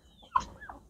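Young hens not yet laying give a couple of short, quiet clucking calls close by, with faint background between them.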